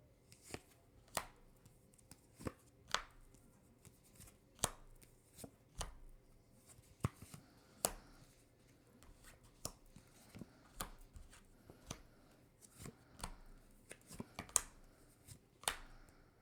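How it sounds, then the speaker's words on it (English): Tarot cards are shuffled in a quiet room, giving sharp, crisp riffles and taps that recur at an irregular rhythm, close and fairly soft, with no talking. "I need to shuffle."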